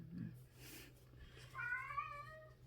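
A cat gives a drawn-out, wavering meow, preceded by a brief low vocal sound in a quiet room.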